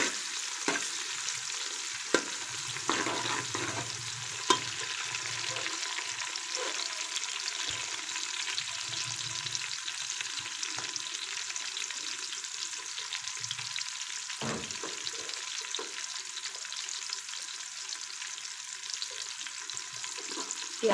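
Chopped onion frying in oil in a pan for aloo pulao, a steady close sizzle with occasional soft stirring scrapes, no voices.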